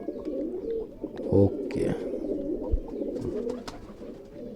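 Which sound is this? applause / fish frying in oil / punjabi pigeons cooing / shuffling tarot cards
punjabi pigeons cooing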